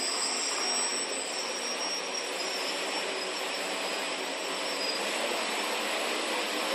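Quadcopter motors hum at a steady, loud, airy whine with a high tonal edge, holding an even pitch throughout with no talk over it.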